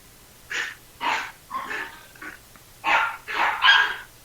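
Several dogs barking in a quick irregular series of sharp yips and barks, close and fairly loud, with short pauses and some breathy panting between bursts.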